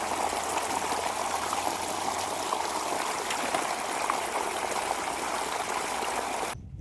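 Irrigation water flows steadily through a cumin field during its third watering, a continuous close rushing trickle with no voices that cuts off abruptly just before the end.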